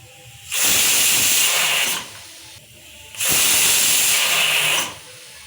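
A pressure cooker of mutton curry vents steam in two loud, sustained hissing whistles, each lasting about a second and a half, separated by a brief quieter pause.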